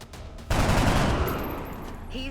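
A weapon fires in the XCOM Long War video game: a sudden loud burst of rapid shots erupts after a quiet moment, then rumbles and fades out slowly, with brief talk around it.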